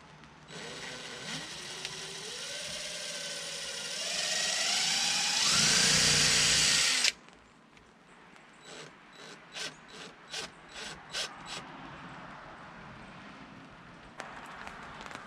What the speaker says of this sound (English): let's line this up and make some pilot holes